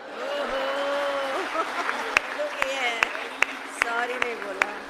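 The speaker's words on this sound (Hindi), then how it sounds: "अब तालियां पुरुषों की इस बात पर चाहूँगा" Audience applause at a comic Holi-special poetry show, sparse and scattered beneath a man's continuous speech, with a few sharp claps standing out in the latter half.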